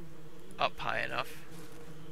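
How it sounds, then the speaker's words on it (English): A brief, faint buzzing of bees near a beehive in the Ranch Simulator game, a short insect drone lasting about a second over quiet background hum. "is that a bee? Is that a beehive right there?"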